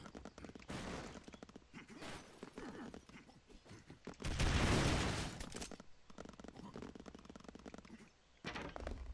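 Leg-mounted gun firing in Broforce, a dense run of rapid gunshots with a louder explosive burst near the middle, then more crackling fire toward the end; game action, no talk.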